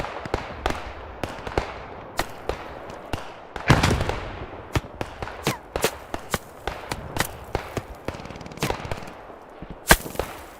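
Scattered gunfire in the World War II shooter Squad 44, sharp rifle and machine-gun shots cracking at irregular intervals near and far, with a heavier burst of fire and rumble partway through.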